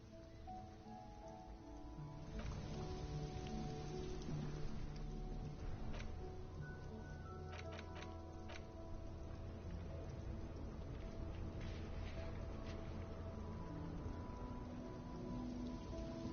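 Steady rain falling in the video game Disco Elysium, a continuous dense patter that holds throughout, with faint distant rumbles and small splashes scattered over it.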